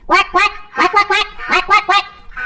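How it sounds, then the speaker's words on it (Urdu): A cartoon duck that has fallen into a pit quacks loudly and frantically. Nine or so sharp, nasal quacks come up close in quick uneven bursts with brief gaps between them. "راستے میں گھڑا تھا جو بطخ کو نظر نہیں آیا، وہ دھڑام سے اس پر گری اور لگی شور مچانے"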